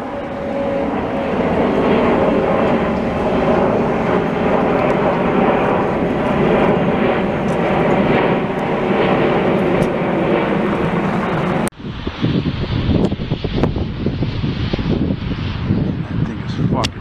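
A Qatar Airways airliner flies past during winter plane spotting in Montreal, with a loud, continuous jet roar that holds steady and then shifts abruptly to a rougher rumble, while a person talks over it.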